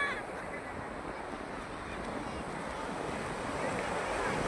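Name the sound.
sea waves on beach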